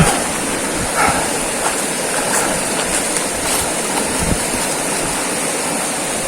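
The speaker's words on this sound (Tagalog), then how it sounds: "Atras ako sa tubig kasi malakas. Malakas ang agos." Strong river current rushing over rocks on a mountain hike, a steady loud roar of water filling the whole clip with no voices.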